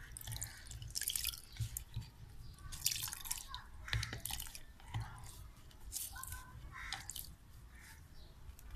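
Water drips and squishes from a helmet ear pad squeezed by hand during a wash with shampoo, giving soft, close, irregular drips and wet squelches with no talking.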